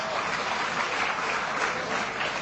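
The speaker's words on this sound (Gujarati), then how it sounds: "બધા તાળીઓ પણ પાડે છે મોદી સાહેબ જે બોલી રહ્યા છે" An audience at a speech by Modi bursting into sustained, dense applause, many hands clapping continuously and loudly throughout.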